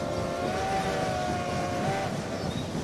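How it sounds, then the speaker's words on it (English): A steam train's whistle in the railway game Rolling Line gives one sustained, steady tonal blast lasting nearly two seconds over a low rolling rumble of the moving train. "hit that whistle"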